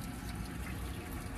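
Small DIY CNC coolant pump running on its lowest setting, circulating cutting and grinding fluid mixed with water, with a faint steady trickling and gurgling of liquid.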